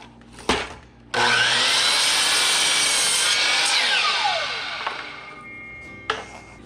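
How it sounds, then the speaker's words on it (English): A miter saw set to a 10-degree angle trims the end off a full-length 2x4: a brief click, then the blade spins up loud and bites through the wood for about four seconds before winding down. "So moving my miter saw over to 10 degrees, locking that in, and let's just trim the bottom off."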